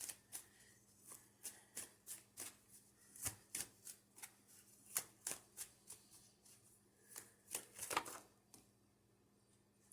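Tarot cards are shuffled in quick crisp riffles and taps, a series of sharp close clicks in irregular rhythm, quiet and without talk.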